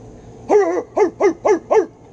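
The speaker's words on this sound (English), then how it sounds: "let me hear that bark" A dog barks five times close by, one longer bark and then four short ones in an even rhythm, with a quiet background.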